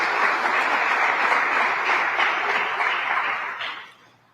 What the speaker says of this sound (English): A round of applause for all the community-based organizations.